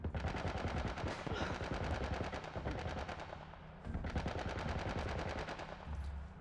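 Sustained rapid machine-gun bursts from a military turret in The Last of Us, dense and loud, broken by one short gap before another stream of fire.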